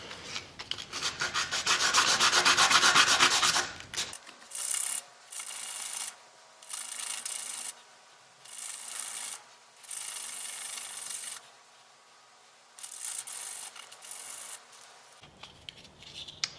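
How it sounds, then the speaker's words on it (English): Hand sanding a plastic model F-16 part flat, a long continuous rubbing stroke followed by a series of short, evenly spaced scratchy bursts with quiet gaps between them, close and alone. "I'm just going to go ahead and sand and make sure that this is completely flat along this back side"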